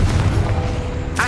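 Confringo spell blast in the Hogwarts Legacy video game, a short booming explosive burst with rumbling decay, followed by a brief voice at the end.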